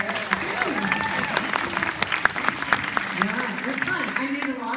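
An audience at a Hunger Games fan event Q&A applauds with a scattered clapping texture, while voices talk over and among the claps at a moderate level.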